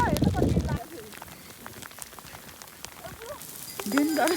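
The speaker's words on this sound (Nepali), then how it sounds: "हेर्नुहोस् त आमामा कत्रो असिना आइछ भैरवकुण्डमा" Hailstones patter on the ground at Bhairabkunda, a frozen high-altitude lake at 4250 m in Sindhupalchok, as scattered sharp ticks fall between voices that talk at the start and end.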